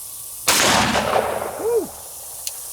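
A single sharp, loud gunshot from a Glock Gen 4 Model 20 10mm pistol firing Underwood 180 grain rounds at a dumpster, close by, followed by a short ringing decay, a brief exclamation and a faint later click.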